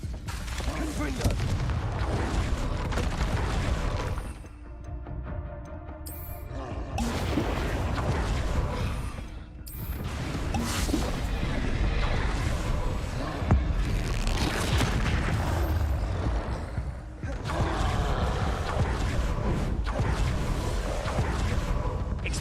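Confringo fire spell blasts in Hogwarts Legacy combat: a dense, continuous run of loud booming explosions and crackling impacts with brief pauses, backed by a busy game mix and occasional voices.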